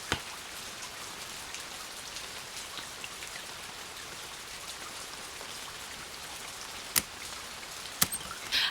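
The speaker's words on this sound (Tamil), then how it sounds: "ஒரே மழை இல்ல? ஐயோ, நல்ல மழை." Heavy rain falls in a dense, steady hiss, continuous and fairly soft, with a few sharp clicks and knocks breaking through near the end.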